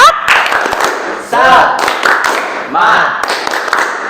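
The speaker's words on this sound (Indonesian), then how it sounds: "Tepuk semangat." A secondary-school class claps a rhythmic spirit-clap ice-breaker, bursts of hand claps and taps mixed with chanting voices over a few seconds.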